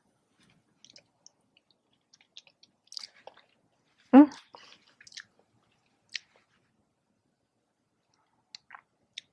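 Someone eating a bite of freshly baked hot chocolate cookie: faint, sparse close-up chewing and mouth clicks, with one louder burst midway, in a quiet room and without talking.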